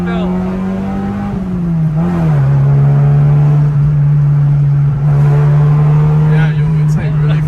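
A car engine droning steadily at a low pitch while the tires slip, the engine note dipping and holding loud and close from inside the cabin, with voices talking over it.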